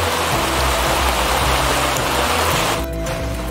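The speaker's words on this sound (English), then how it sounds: "I thought the rain would stop, but it's gonna be raining all day." Steady rain falls on leaves outdoors, a dense, loud, even hiss of droplets that continues without pause.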